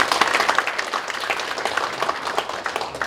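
Attendees at a policy debate forum in the National Assembly clap for an introduced ministry official; the brief, lively applause lasts about three seconds without speech.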